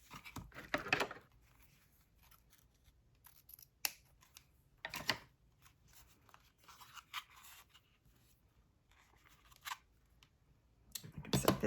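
Scissors cut ribbon for a handmade card in a few short, crisp snips spaced apart, close and fairly quiet, with light paper and ribbon rustling between the cuts.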